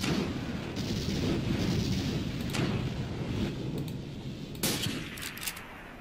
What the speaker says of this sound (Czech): V momentě, kdy jsou slyšet výbuchy.